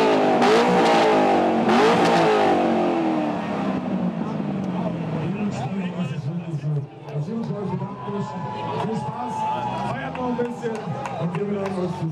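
A loud American car revs hard at a US car meeting in Freiberg, with strong rising and falling engine sweeps at first, then a rougher rumbling idle and revving, close by, with voices around.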